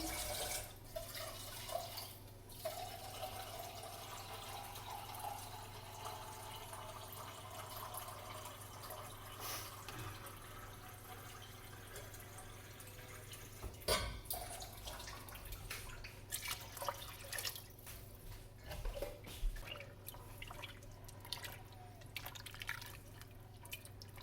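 Filtered water poured into a pot of split pea soup on a home stove, a quiet, steady trickle and drip of liquid with occasional splashes and clinks, faint and continuous throughout.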